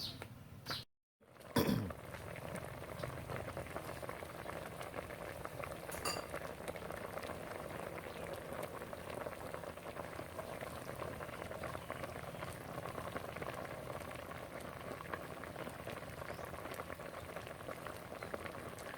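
Pork leg with Chinese herbs stews in a covered pot, giving a quiet, steady bubbling simmer throughout, broken near the start by a brief clatter of handling.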